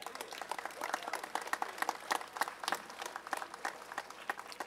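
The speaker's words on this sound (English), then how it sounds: "Let's give them a round of applause." A modest audience gives a round of applause at a political event, with distinct individual claps forming an uneven, fairly faint patter that continues throughout.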